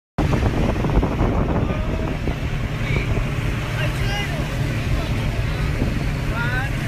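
A motorboat speeds toward Phi Phi Island in Thailand with a steady engine roar and constant wind buffeting the microphone throughout.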